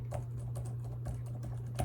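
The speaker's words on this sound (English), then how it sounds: "you see this is like hard typing, softer typing, and like pressing down in general areas." A few separate keystrokes and presses on a Surface Pro 7 type-cover keyboard, some firmer and some softer, close by over a steady low hum, with no talking.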